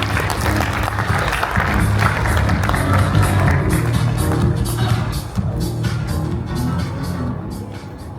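An audience applauds steadily for a welcomed guest speaker at the Japan–India Mobility Summit 2026, a dense, continuous wash of clapping from a large hall crowd lasting throughout.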